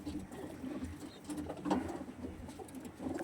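Pigeons offered for sale at a bird market cooing softly in a few low, rounded phrases, faint and close, with no talk over them.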